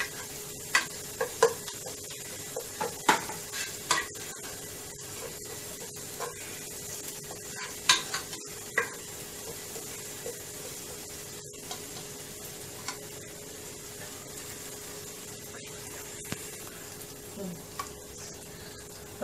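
Onions fry in hot oil with salt for a Konkani-style drumstick pod curry, giving a close, steady low sizzle broken by sharp, irregular clicks and scrapes of stirring.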